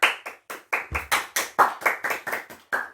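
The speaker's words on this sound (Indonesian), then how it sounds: "Kita berikan tepuk tangan untuk Kurnia." Students clapping in a classroom in a sharp, rhythmic series of about a dozen loud, evenly spaced claps, alone without any talk.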